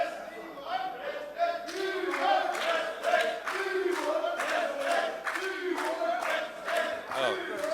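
Opposition BRS legislators protest in the well of the Telangana Assembly, a loud crowd chanting rhythmically with bursts of clapping and shouting that carry on steadily throughout.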